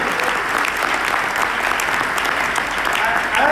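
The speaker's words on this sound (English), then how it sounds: "let's give her a round of applause for teaching our kids" Sustained applause from a crowd at a town hall meeting at Drake University, Iowa: loud, even clapping from many hands that carries on without a break.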